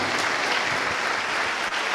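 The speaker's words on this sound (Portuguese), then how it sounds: "Aplauda o Senhor Jesus bem forte" A church congregation claps hard and fast during a Portuguese-language celebration service, a dense, loud, continuous roar of hands filling the whole stretch with no voices rising above it.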